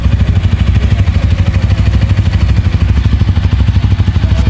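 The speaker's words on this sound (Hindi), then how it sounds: "चलिए सबसे पहले इसके इंजन का साउंड सुनते हैं कि इंजन कैसा साउंड करता है" A Bajaj Pulsar N160SS motorcycle engine idles with no throttle, giving a steady, loud, close-up putter with an even rhythmic beat throughout and no voices.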